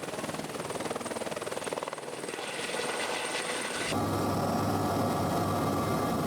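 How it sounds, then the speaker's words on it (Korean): Continuous loud helicopter rotor thump and engine roar over Niagara Falls in winter, close and steady throughout, growing heavier partway through. "first time to have a helicopter ride."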